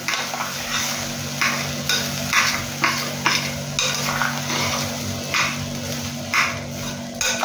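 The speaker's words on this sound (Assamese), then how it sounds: "গোটেইখিনি ভালদৰে লৰাই দিছোঁ।" A spoon scrapes and stirs rhythmically through raw rice grains frying for pulao in a hot pan, with a steady sizzle underneath and regular scraping strokes.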